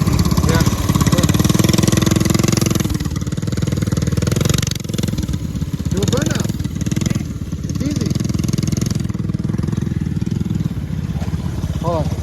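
Small engine of a homemade minibike runs up close, revving then settling into an uneven, sputtering idle, with people talking over it.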